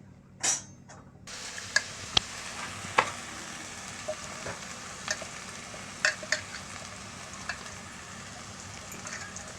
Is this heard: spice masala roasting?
yes